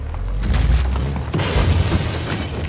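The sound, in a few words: grenade explosion in video game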